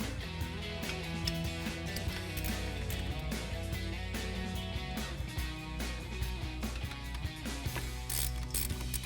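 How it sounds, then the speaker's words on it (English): A ratchet with an 18mm socket clicks rapidly and continuously while removing a Jeep Gladiator caliper mounting bracket, close up and alone, without speech. "Then we'll use our 18mm socket to remove our caliper mounting bracket."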